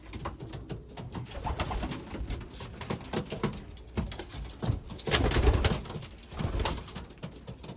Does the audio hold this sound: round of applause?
no